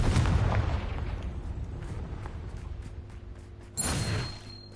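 A Confringo fire spell explodes in the video game Hogwarts Legacy, a heavy booming blast that rumbles and fades, followed a few seconds later by a second sharp burst, with no speech.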